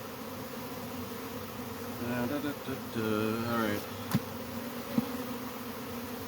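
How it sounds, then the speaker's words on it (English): Bees swarming around a hive being removed from a cable box, a dense steady buzz running throughout, with a brief spoken remark and a few sharp knocks near the end. "So I'm going to dump these bees out so that they can"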